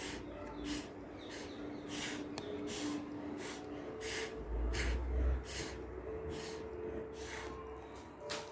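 Air blown by mouth onto poured paint on a canvas for a lavender blossom pour with rose gold, heard as a series of short, quiet, breathy puffs repeated at an uneven rhythm.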